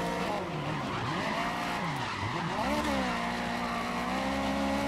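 Tyres skid and squeal under the handbrake in GRID 2019 racing, a long wavering screech over a steady engine roar that continues throughout.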